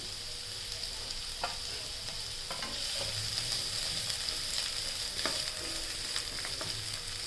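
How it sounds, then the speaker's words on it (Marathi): Chopped onion sautés in a little oil for a dry potato and spinach dish, a steady close sizzle with occasional scraping stirs of a spoon in the pan. "कांदा टाकणे, कांदा परतून घेणे"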